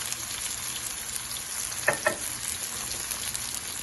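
Ginger and garlic frying in a pan with green chillies for egg kothu parotta, a steady soft sizzle throughout with a couple of brief sharper pops near the middle, no voices.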